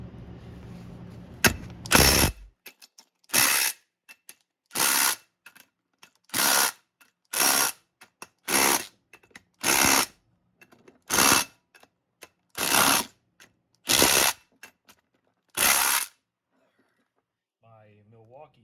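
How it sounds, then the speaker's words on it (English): A Milwaukee torque wrench tightens differential bolts in about a dozen short, sharp mechanical ratcheting bursts, evenly spaced with brief silent gaps between them, heard up close. "My Milwaukee torque wrench says that they're done."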